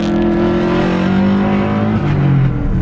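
A turbocharged Subaru Forester with an EJ205 engine and full straight pipe from the turbo back revs loudly and steadily, its rumbling tone rising and shifting pitch, close to the listener.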